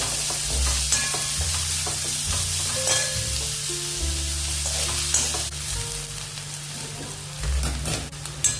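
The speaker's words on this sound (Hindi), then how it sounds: "थोड़ा सा हल्का भूरा हमने प्याज को भून लिया है।" Finely chopped onions sauté in a pan until light brown for a soyabean vadi snack, a steady loud sizzle broken by repeated stirring scrapes and clinks, with a low hum running underneath and no voices.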